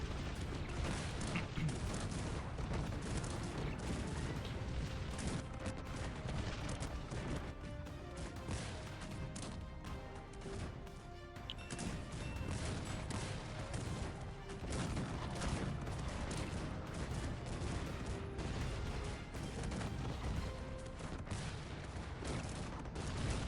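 Sustained artillery barrage in the strategy game Cossacks 3, a dense, continuous wall of overlapping cannon booms and gunfire volleys hitting a hill, loud and unbroken throughout with no pauses.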